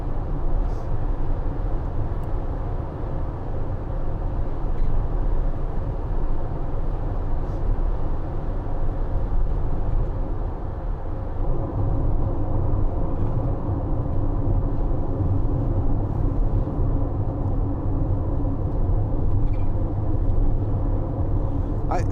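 A 2019 Citroen Relay 2.2 BlueHDi 35 L2 H2 van with a manual gearbox and turbo, driving on a test drive: a steady low engine and road rumble throughout, loud and continuous from inside the cab.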